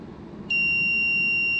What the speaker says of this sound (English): the buzzer will sound, and then you can turn it off manually